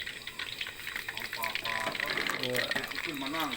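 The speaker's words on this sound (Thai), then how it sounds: "มันเริ่มร้อนแล้วครับ น้ำมันเดือดแล้ว นี่มันเดือดครับ" Hot oil bubbling in a pan for Thai fried egg dish, a steady close bubbling fizz while someone talks over it.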